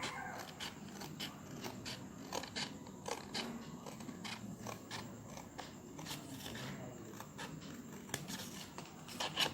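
Scissors snipping through paper while cutting a circle for a money envelope cover, a run of quick close crisp cuts and rustles repeating irregularly, with soft handling noise between them.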